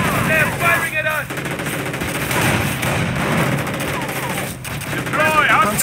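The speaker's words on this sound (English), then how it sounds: "They're firing at us!" Rapid machine-gun and rifle fire in the WWII strategy game Company of Heroes, bursts rattling continuously with some distance, under faint shouted battlefield voices.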